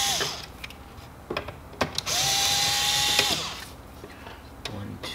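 A power screwdriver backs screws out of a Konica copier cover, giving a steady whirring run of about a second and a half with short mechanical clicks and handling noises before and after.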